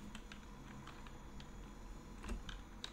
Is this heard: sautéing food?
no